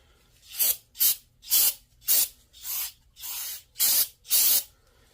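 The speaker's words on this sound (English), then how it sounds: "or our flywheel back up one last time with some good old brake cleaner." O'Reilly brake cleaner sprayed onto a flywheel during final engine assembly for a 1979 Mustang Fox body 302, heard as eight sharp aerosol bursts of roughly half a second each, close and loud, with short pauses between and no talking.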